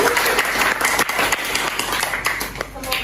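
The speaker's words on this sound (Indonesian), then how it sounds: "Boleh tepuk tangan?" Applause from a small group at a business meeting roleplay, a short burst of clapping fairly close and loud, with some voices mixed in.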